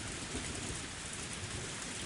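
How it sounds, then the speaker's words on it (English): Heavy rain pouring down in the video game Higurashi, a dense, loud, unbroken hiss of downpour beating the ground, with low rumbling underneath, alone with no voices. "there was thunder in the distance, and a heavy rain started pouring down"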